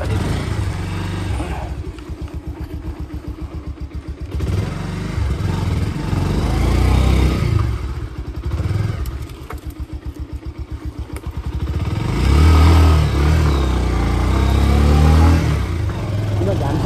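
A motorcycle engine runs steadily nearby with a low, throbbing rumble that swells and eases, while people talk over it.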